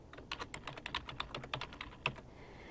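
Quiet, steady typing on a computer keyboard while entering text into a PowerPoint 2013 presentation: a quick run of light, closely spaced key clicks with one slightly firmer tap near the end.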